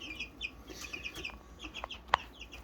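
Backyard flock of Americana and Barred Rock hens clucking softly and steadily, with short repeated clucks and chirps close by and one sharper sound near the end.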